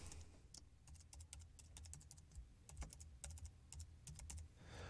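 Quiet, close clicking of a computer keyboard as a username is typed, in irregular bursts of keystrokes with brief pauses.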